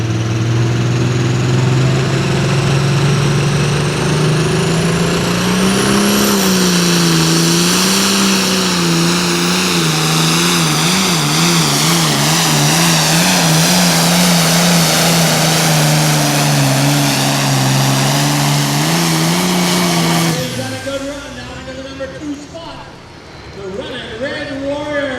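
A farm tractor roars at full load during a pro limited tractor pull, a loud sustained engine note wavering in pitch for about twenty seconds before abruptly dropping off, with an announcer's voice over it.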